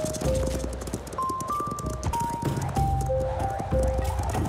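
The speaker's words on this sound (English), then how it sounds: "We gallop together towards the south." Horses gallop together in a cartoon scene, hooves clip-clopping in a quick, steady rhythm, close and fairly loud over a musical background.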